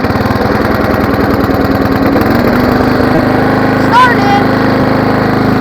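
A riding lawn mower engine, choke pulled, running loudly and close with a steady buzzing chug, its pitch shifting as it settles, and a short sharp squeak midway.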